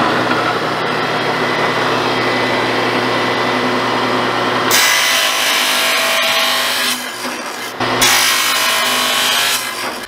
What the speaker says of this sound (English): So let's go cut out two 26 inch pieces and let's get the frame started.